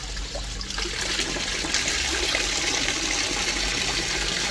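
Water pours slowly and steadily into a home fish tank holding zebra fish, a continuous close trickling splash that holds even throughout with no voices.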